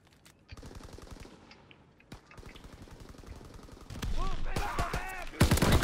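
Hardcore team deathmatch gunfire in Call of Duty WWII on the London Docks map, with rapid automatic bursts, scattered single shots and growing chaotic firing that ends in a loud close burst, while a player talks quietly underneath.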